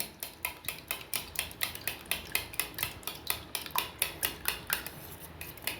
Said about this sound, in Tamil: நான் இந்த முட்டையை அவ்வளோத்தையும் நல்லா கலக்கிக்கிட்டேன்